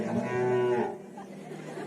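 A voice imitates a cow's moo during a Bhagavat katha religious discourse: one drawn-out, low, tonal call lasting under a second, fairly close and clear, then fading into quieter room sound.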